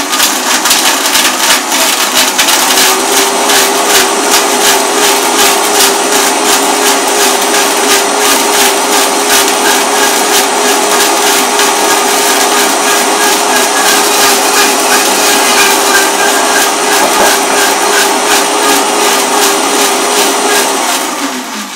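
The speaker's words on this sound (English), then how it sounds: "Blend thoroughly, and right now it's kind of watery" A blender whirs loudly and steadily for over twenty seconds, churning seaweed into a watery gel, with a constant high motor whine that never pauses and no voice over it.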